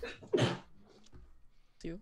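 A single short sneeze bursts out near the start, followed by a faint breath and a brief spoken word toward the end.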